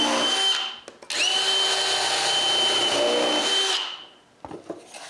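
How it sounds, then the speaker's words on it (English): A power drill boring holes in wood for a cabinet back in a workshop runs loud and close in one long steady whine, briefly dipping and restarting near the start, then winding down with a few clunks after. "I need to drill some holes to hold the back in place."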